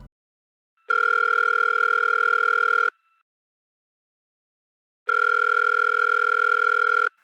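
A telephone ringback tone on speakerphone sounds twice, each ring about two seconds long with a long silent pause between, clear and electronic.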